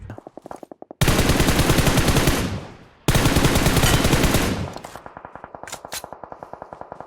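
Automatic gunfire in the mobile game PUBG Mobile, two long, loud rapid-fire bursts of rattling shots, the second fading out, followed by lighter clicks and a few single shots.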